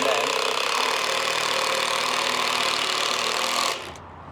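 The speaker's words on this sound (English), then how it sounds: "put your impact driver in reverse, put your screw in and spin your screw in reverse" An impact driver whirs steadily as it drives a screw into CLS timber for garage storage shelving, a continuous dense buzzing that runs for several seconds and then cuts off abruptly.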